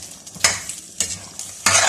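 Cornflour slurry hits a hot pan for chicken manchurian, giving three bursts of sizzle as it is stirred, with quieter scraping between; close and clear, no talking.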